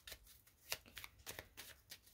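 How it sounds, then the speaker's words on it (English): Tarot cards being shuffled by hand in a quick run of soft riffling slaps and papery flutters, close and fairly quiet, with no voice over them. "And while I'm shuffling"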